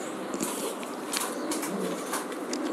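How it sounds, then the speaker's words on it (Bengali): Imported show pigeons in a loft, a championship exclusive pair among them, give soft low cooing over a steady bed of bird chatter, with faint wing flutters and scattered calls throughout. "চ্যাম্পিয়ন কবুতর"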